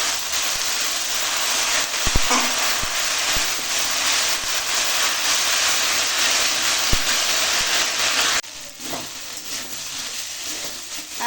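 Greens being fried in a pan with turmeric powder and salt, a steady broadband sizzle that runs throughout with a few sharp clinks of a utensil, quietening near the end.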